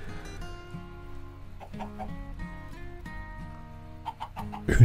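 Blocky Minecraft hens give scattered clucks, a few brief calls spaced apart at low volume, ending with a sudden louder thump at the close.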